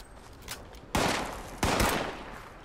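Two loud gunshot bursts in the video game Fallout, each a sharp blast with a decaying tail, spaced under a second apart after a quieter stretch.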